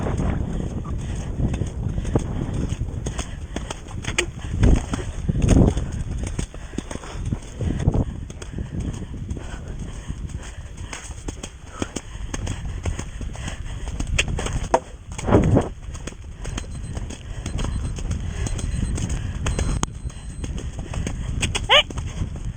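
A horse galloping in a show jumping competition during a downpour, rhythmic hoofbeats under heavy wind and rain rumble, with a person calling out to the rider at times.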